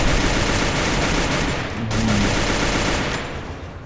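Rapid video-game gunfire fires at a boss in a steady, dense automatic stream, loud and continuous for a few seconds before trailing off.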